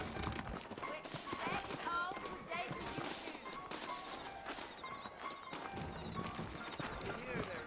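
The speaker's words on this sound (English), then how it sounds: "I got the horses saddled up and ready out front" Saddled horses in the 2010 video game Red Dead Redemption trot with a steady rhythmic clip-clop of hooves, heard under ongoing conversation between characters.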